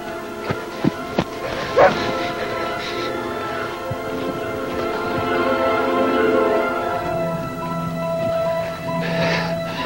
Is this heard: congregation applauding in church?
no